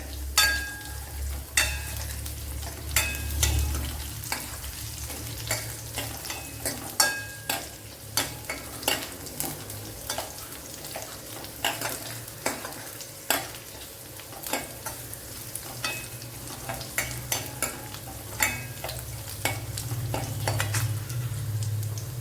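Cumin and dried red chillies fry in hot oil while a utensil stirs them, a continuous close sizzle broken by regular sharp scraping and tapping strokes against the pan, with no one speaking.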